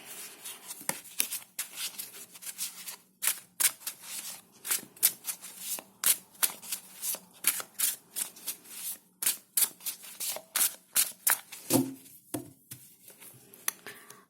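Tarot cards are shuffled by hand in quick, repeated riffles and snaps, close and crisp, with short pauses between bursts and no talking.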